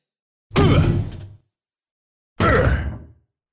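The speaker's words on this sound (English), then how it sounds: "Let me just try to ram it open. It just might be jammed." Two heavy thumps sound as someone rams a jammed door, about two seconds apart. Each impact is loud and close, with a rattling decay, and effortful grunting is mixed into the blows.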